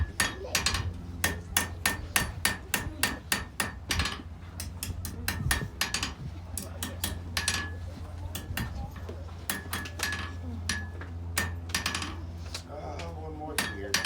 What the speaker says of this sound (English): So I'm gonna smooth out my hammer marks, make sure it's nice and straight, nice and smooth.